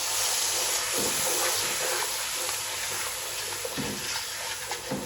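Hot water hisses and sizzles as it pours into a cooking pot of chicken dum biryani, a continuous loud rushing steam sound with small bubbling crackles.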